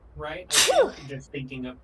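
A single sharp sneeze bursts out between stretches of conversational speech, loud and close, with a person talking before and after it.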